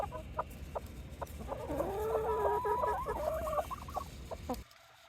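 Pet chickens clucking near a coop in snowy winter weather, a run of close, rhythmic clucks and warbling calls rising over low background noise, then cutting off abruptly near the end.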